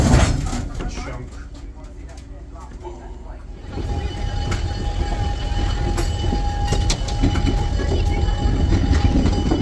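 A Norfolk Southern freight train rolls past on the rails, growing louder after a few seconds into a steady rumble with rhythmic clicking of wheels over joints, close by.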